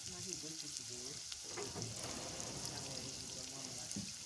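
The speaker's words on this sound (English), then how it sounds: "I'll start by adding onion into the hot oil." Steady crackling sizzle of onions frying in hot oil, continuous and close, with faint voice-like tones near the start.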